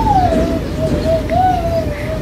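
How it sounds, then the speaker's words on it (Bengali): Pigeons in a cage give a soft, steady, wavering coo close by over a dense, loud background hum. "এদের কবুতরে খাঁচা।"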